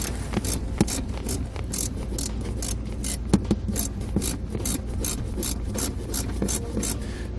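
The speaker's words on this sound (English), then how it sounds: "To remove that, you'll want to use the 10mm socket." A 10mm socket on a ratchet backs a bolt out of the kick panel on the outside wall of a 2012 vehicle, giving a steady run of quick, close ratcheting clicks with no talking.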